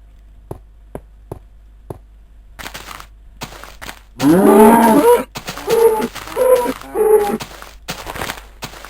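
Cows mooing in the video game Minecraft, several loud low moos in a row following a few sharp clicks, close and clear with brief pauses between calls.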